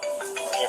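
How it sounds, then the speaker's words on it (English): A phone rings with a short electronic tone that steps between pitches in a quick, clear burst. "because her phone ringing"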